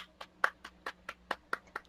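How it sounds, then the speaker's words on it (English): Applause after a debate speech, heard as a few sparse, quiet individual claps in an irregular rhythm, fairly close, rather than a full audience ovation. "Let's give him a round of applause"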